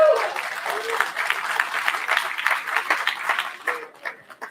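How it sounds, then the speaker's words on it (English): An audience at the X Cup Awards, a live cannabis expo event, breaks into a round of applause, dense and moderately loud clapping that swells and then thins out over a few seconds. "Give them a big round of applause"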